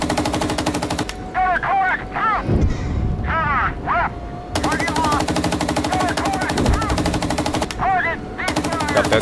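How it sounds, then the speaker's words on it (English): Artillery fire landing in the M1 Abrams tank game Gunner Heat PC, a dense, continuous barrage of rapid booming impacts that runs almost without pause, with brief lulls and voices breaking in at intervals. "The artillery is coming down on them."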